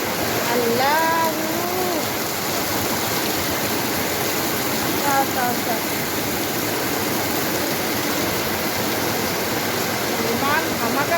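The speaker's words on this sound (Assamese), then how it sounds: "ইমান ধামাকা বৰষুণ দি আছে আৰু এনেকুৱা বৰষুণ দিলে ৰাস্তাত পানীয়ে হৈ যায় দেখোন" Heavy rain pours onto a city road in Guwahati, a dense continuous roar of water close by, with brief voices faintly audible beneath the downpour.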